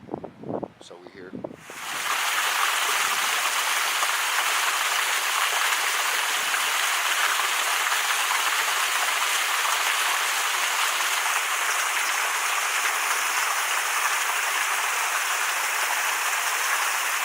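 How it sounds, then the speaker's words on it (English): A small waterfall pours into a pool on a windy day in the Desolation Wilderness, a steady broadband rush that sets in after a brief bump and stays loud and continuous with no talk over it. "Up at the little waterfall and pool."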